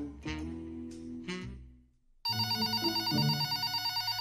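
A telephone rings with a loud, steady electronic ring that breaks in after a brief silence, following a stretch of other muffled tonal sound.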